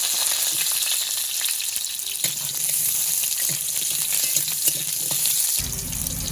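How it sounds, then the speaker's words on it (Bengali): Potatoes with garlic sizzle steadily in a hot wok, a loud continuous frying hiss with soft stirring scrapes, closing with a brief clank near the end. "তো আমি আলুটা ভালো করে লাল লাল করে ভেজে নেব।"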